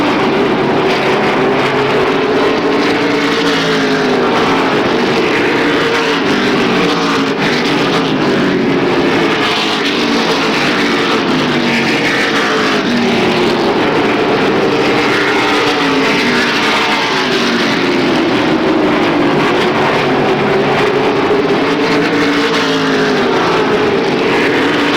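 Race cars at Motordrome Speedway roar continuously around the oval during a late-model feature, a loud, steady engine drone that rises and falls slightly as the field passes, with no talk over it.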